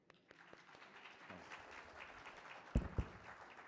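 Audience at an event applauding its distinguished guests, steady, moderately distant clapping that swells briefly with a couple of louder close claps.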